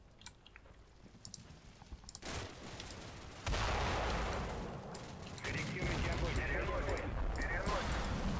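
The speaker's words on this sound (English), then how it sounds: "Getting these mortar rounds dropping in there, that's good." Mortar rounds land and burst in a snowy wartime battle game, a dense rumbling barrage of explosions that thickens and grows louder partway through, with a voice talking over it.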